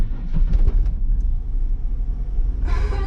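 A 3.8 litre VS Holden Commodore driving, a low steady engine rumble and road noise heard from inside the car, with brief rattles early on and a hissy rise near the end.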